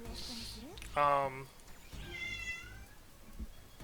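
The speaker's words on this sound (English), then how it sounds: "there's a cat." A cat in the video game Phantasy Star Online 2 gives two meows, one short and sharp and a later, fainter drawn-out one, with game sounds in the background.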